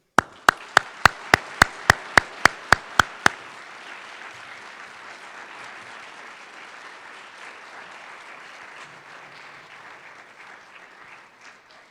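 An audience at a 2020 Martin Luther King Day event at Colorado Mesa University breaks into sustained applause, opening with about a dozen sharp, evenly spaced claps up close before settling into a steady, fading wash of clapping.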